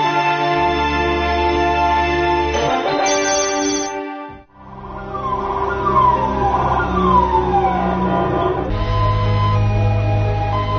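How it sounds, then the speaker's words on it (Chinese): An ambulance siren wails along Chengcheng Avenue in Shuangqiao Economic Development Zone, Chongqing, a loud, continuous rising and falling tone that briefly cuts out and then resumes, sweeping steadily over street traffic. "一阵急促的救护车警报声响彻在重庆市双桥经开区车城大道上"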